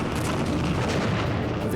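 Heavy machine gun and mortar fire from a World War II beach landing rumbles as a dense, continuous roar of gunfire and blasts, loud and unbroken throughout.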